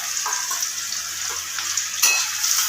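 Green cardamom pods sizzling in hot oil, a bright continuous crackle with a few sharper pops and a brief surge near the end, close and fairly loud, with no voices.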